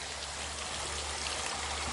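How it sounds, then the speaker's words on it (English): Glendale Falls spilling along a creek, a soft, steady watery rush with faint trickling, heard from a short distance and unbroken throughout, with no one talking. "There are 3 waterfalls along this creek here, Upper, Middle, and Lower Glendale Falls."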